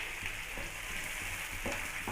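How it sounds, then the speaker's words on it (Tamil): Chopped onion frying in oil with mustard seeds and fennel, a steady close hiss and crackle of sizzling that runs evenly throughout with no voices. "வெங்காயம் நல்லா வதங்கட்டுங்க."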